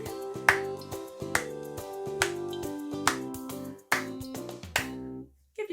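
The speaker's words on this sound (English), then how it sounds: "We can keep clapping." A handful of crisp hand claps landing on the beat of a children's song, spaced about once a second, ending as the music stops.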